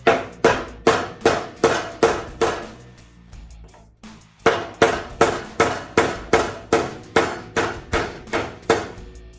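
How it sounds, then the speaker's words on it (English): Sharp, repeated hammer blows on a wooden dowel in a steady rhythm while removing a Ducati Panigale V4 stock exhaust, a short pause midway, then the regular striking resumes, close and loud. "I'm going to use this as a wooden dowel."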